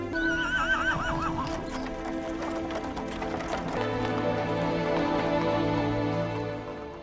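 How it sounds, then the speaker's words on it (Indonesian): A carriage horse neighs loudly with a wavering whinny near the start, then hooves clip-clop steadily under a sustained musical backdrop, the cart rolling on toward a royal palace in ancient Egypt. "Yusarsif pada akhirnya menaiki kereta kuda menuju istana Amunhotep."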